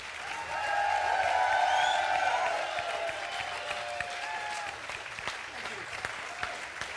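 Audience applause after a world-music concert set at a WOMAD festival, loud sustained clapping from a crowd that swells early, then gradually thins and fades.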